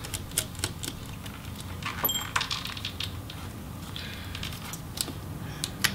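A small screw is removed from the Wi-Fi card inside a Lenovo Yoga 720 13IKB laptop, giving light metallic clicks, ticks and faint scraping, close up and scattered irregularly over a quiet background.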